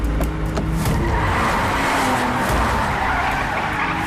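Tires skid and squeal loudly as cars race in an action-movie chase, a continuous harsh screech over roaring engines with no talk.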